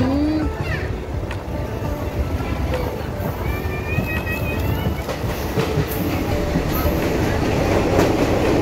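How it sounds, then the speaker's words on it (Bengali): A steady rumble of a moving train with rhythmic rail clatter, heard from on board as it runs between hills, while people talk faintly in the background. "সুন্দর চারিদিকে পাহাড়ের মাঝখান দিয়ে আমাদের ট্রেনটা চলে যাচ্ছিল"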